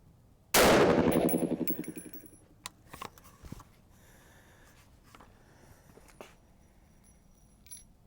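.350 Legend rifle firing a single loud, sharp shot that rings out and decays over about a second, followed by faint clicks and small handling noises.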